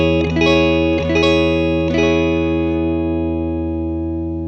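Picked toward the neck, an electric guitar chord through distortion effects is struck three times in quick succession, then left ringing and slowly fading, warm and full, close up and alone.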